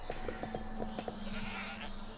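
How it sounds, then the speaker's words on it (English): A goat bleats several times in quick succession in the Guacamelee video game, short nasal cries repeating over a steady background hum and game music. "Can I do something with the goat?"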